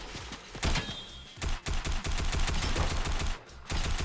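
Rapid bursts of TAC AR assault rifle fire in Fortnite, loud and dense volleys of shots broken by a few brief gaps.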